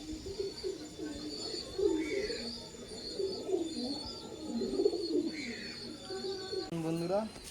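Kalanka pigeons, a big male and a female feeding chicks, coo in soft repeated throaty bursts throughout, with brief higher chirps in between and a short lower voice near the end.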